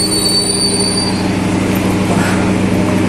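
Motis Utara passenger train on the Cilegon to Pasar Senen line rolls over the rails with a steady, loud rumble and a thin high wheel squeal running throughout.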